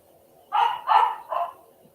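Three quick barks from a dog, loud and fairly close, ring out in a short burst over quiet room tone.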